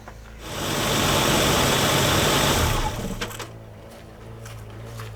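An AMC Eagle's hot engine revs into a loud, steady roar for about two and a half seconds, then drops back to a quieter, even idle that continues to the end.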